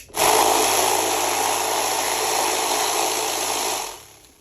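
Rock tumbler loaded with tiger's eye stones running on its final polish, a steady close grinding whir with a constant low hum that holds evenly for about four seconds, then cuts off.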